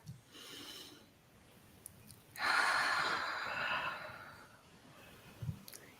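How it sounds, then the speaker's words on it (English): A slow, deep breath drawn in and let out during a guided meditation, a soft airy rush swelling for a few seconds and then fading, alone and close with no talk over it. "take a nice deep breath"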